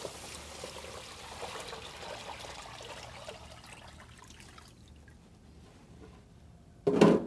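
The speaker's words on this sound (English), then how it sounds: "We'll then add the water to the pan." Water poured into a pan of rice, a soft steady trickle and splash lasting several seconds, then tapering off, with a brief louder clunk at the end.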